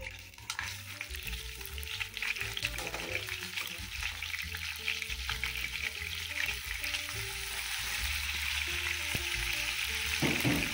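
A fish head fries in hot oil with onion, ginger and garlic for an Assamese pumpkin-and-fish dish. It sizzles steadily and crackles up close, with stirring scrapes throughout and no talk.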